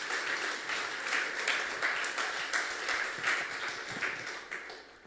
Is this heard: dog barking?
no